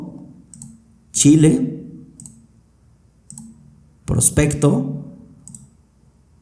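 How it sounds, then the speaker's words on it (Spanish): Mouse clicks select dropdown options in a Google Sheets spreadsheet: two short click bursts land about three seconds apart, mixed in with someone speaking Spanish. "voy a darle clic en México"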